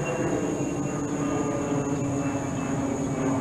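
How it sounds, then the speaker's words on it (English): Airplane passing overhead outdoors, a steady broadband roar that holds evenly throughout, moderately loud and unbroken, with no talk. "There's another airplane. Wow, it's closer too."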